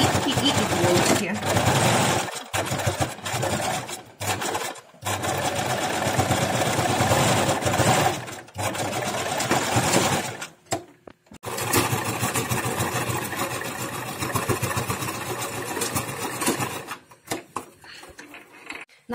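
A sewing machine stitches a seam on a homemade fabric face mask, running in loud rapid bursts separated by short pauses.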